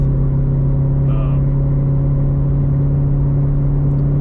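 A Corvette C7 engine drones steadily with a low hum, holding near-constant revs at close range, no talking.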